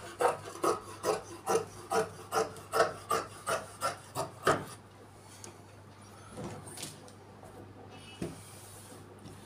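Scissors snip through churidar pant fabric in a steady run of about a dozen crisp, evenly spaced cuts close by, then a quieter stretch with only a few faint rustles and scattered snips.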